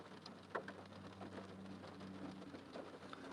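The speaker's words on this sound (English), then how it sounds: "Do you hear the rain right now?" Continuous rain falls outside with a steady wash of drops and a low rumbling undertone, moderately quiet and unbroken, with no voices over it.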